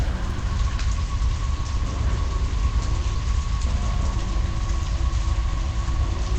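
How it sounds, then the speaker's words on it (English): Blood rain falls in the video game Soul Reaver 2 Remastered as a constant loud hiss of pattering drops over a deep low rumble, steady and unbroken throughout. "we now have blood raining down that we have to dodge"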